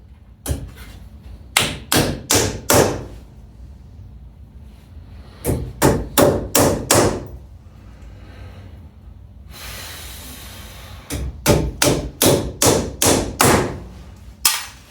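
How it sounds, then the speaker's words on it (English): Hammer blows drive nails into glued scrap wood corner pieces on a garage storage bin, arriving in close, loud bursts of four to six sharp strikes separated by short pauses. "glued and nailed, scrap pieces in all 4 corners"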